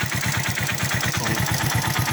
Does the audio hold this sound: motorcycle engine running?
yes